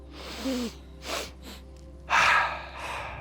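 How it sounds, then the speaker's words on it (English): Close energizing breathing exercise: a big nose inhale, a quick audible sniff at the top, then a forceful breathy exhale through the mouth, followed by a softer trailing breath. "a big inhale through the nose, a quick inhale right at the top, and then an exhale through the mouth"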